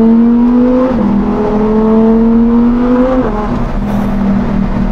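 A Lamborghini Huracan STO engine climbs steadily in pitch under acceleration, loud and close from inside the car, with a quick gear change partway through before it pulls hard again.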